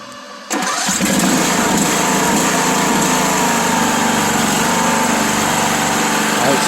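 A John Deere E100 riding mower engine, just fitted with a new carburetor, catches after a brief quiet moment and keeps running steadily, a loud, continuous drone with a high buzzing whine.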